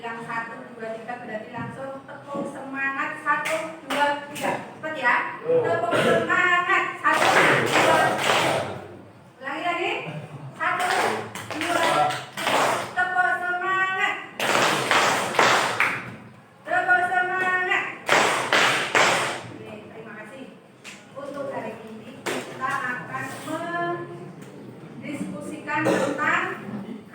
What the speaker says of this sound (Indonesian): berarti langsung tepuk semangat 1, 2, 3. Cepat ya. Tepuk semangat.